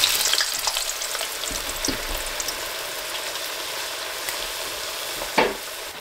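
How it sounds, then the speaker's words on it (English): Fries deep-frying in hot grease in a cabin kitchen make a dense, constant bubbling hiss. It stays close and steady for the whole span, with a few brief clinks and no voices. "I'm gonna put them in really hot grease and I don't wanna start a fire here in the cabin"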